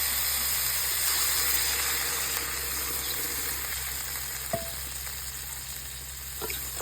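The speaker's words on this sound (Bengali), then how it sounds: "এগুলিকে আমি ভালো করে কষিয়ে নিয়েছি আবার আমি দিয়ে দিব জল" Water going into a pan of well-fried spices for a cauliflower curry. A strong, steady sizzle and hiss continues throughout, with a faint clink near the end and no talk.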